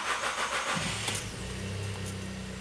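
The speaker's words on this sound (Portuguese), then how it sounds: "Vamos dar partida no carro." Honda Civic engine running on ethanol cranks with a quick whirring starter and catches, then settles into a steady low idle, heard from inside the car.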